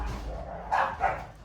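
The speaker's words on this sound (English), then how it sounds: "I'm sorry, it's my dogs." Dogs indoors give two short barks close by, following a stretch of low background noise.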